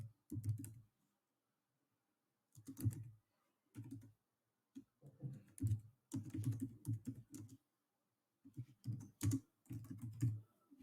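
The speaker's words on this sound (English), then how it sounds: "let's type in imaginary address for them" Typing on a computer keyboard comes in short bursts of quick, soft key clicks separated by silent pauses, quiet and close, as an address is entered.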